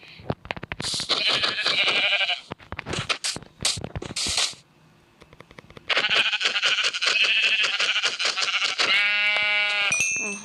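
Sheep in the video game Minecraft bleat loudly and repeatedly, in long wavering calls broken by short gaps, with a voice speaking during parts of the sequence.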